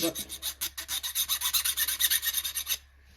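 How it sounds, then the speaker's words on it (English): A steel file rasps rapidly back and forth along the edges of a screwdriver tip during a Ford 9N carburetor rebuild, a steady run of close, even strokes that stops abruptly. "Try to file down the edges."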